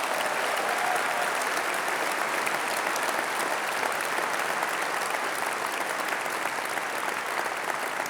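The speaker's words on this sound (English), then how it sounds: "Please give all our by-election teams a big round of applause." Sustained applause from a large audience at a Liberal Democrat autumn conference rally, steady and full for the whole stretch, with a little crowd noise mixed in.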